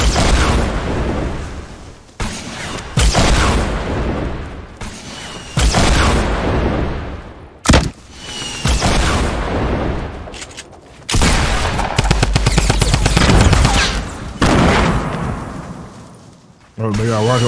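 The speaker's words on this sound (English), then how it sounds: "They got rocket launchers too." Rocket launcher explosions and gunfire in Fortnite battle royale, loud, dense booms and bursts of rapid shooting in long stretches with brief gaps, close and harsh, with people talking over the fight.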